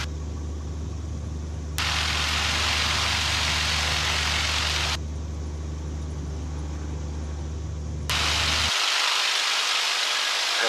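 A Bearhawk light aircraft's engine holds a steady drone at about 1500 RPM while it taxis with both brakes dragging, with broadband wind-like rushing that switches on and off in blocks.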